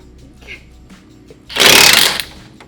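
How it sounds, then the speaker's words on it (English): A power tool with a socket spins off engine mount nuts during a car engine removal, one loud close buzzing whir of about half a second rising after quieter shop noise. "Switch the socket and you're gonna zap off these nuts on both sides."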